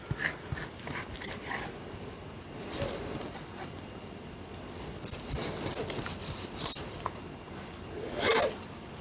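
A knife slices beef into thicker chunks and trims away the fat, making close, intermittent rasping and scraping strokes with brief pauses and no talking.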